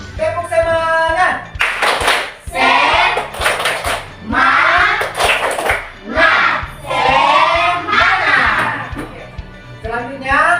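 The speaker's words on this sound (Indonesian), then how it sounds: "kalau begitu kita tepuk semangat dulu" A school class does a tepuk semangat chant, with rhythmic group hand claps in quick patterned bursts interleaved with loud chanted voices, close and lively throughout.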